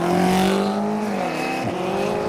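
A BMW M5 and a McLaren 600LT launch side by side in a drag race, loud engines roaring close by with rising revs and a brief tire squeal, briefly dipping as a gear changes.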